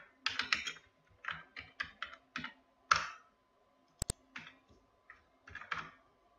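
Typing on a computer keyboard during an Excel spreadsheet tutorial: quiet, close clusters of key clicks in short irregular bursts with gaps between, including a couple of sharper isolated taps, with no talk.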